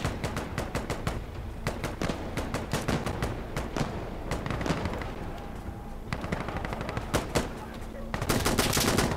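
Gunfire in a video game battle pitting UN peacekeepers against mujahidin, with rapid machine gun bursts and single shots firing in dense, loud volleys throughout and a voice speaking briefly underneath.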